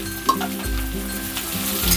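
Tomato and chopped green chillies frying in a pan for a taro flower dish, a steady close sizzle with a few stirring and utensil clinks, no talking.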